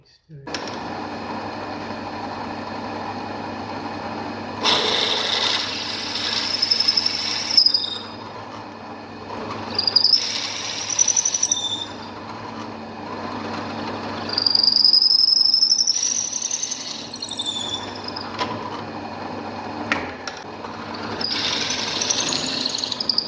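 A high-pitched drilling whine rises and falls in several bursts over a steady mechanical hum, with quieter gaps between passes, as a pen blank is drilled on a lathe.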